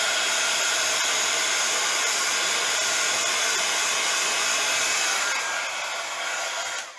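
A dryer blows steadily and loudly over wet colours on an artistic die-cut craft project, a constant broad whoosh with no talking that eases off in the final second.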